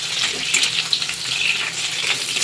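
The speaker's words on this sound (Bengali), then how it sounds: "এবার এই কেটে রাখা জিরেগুলো দিয়ে দেবো এইটাও আমি ওই তিন মিনিট মতন ভেজে নেবো" Cumin seeds frying in a pan with potatoes over a high gas flame give a steady, close crackling sizzle that runs throughout with no voices.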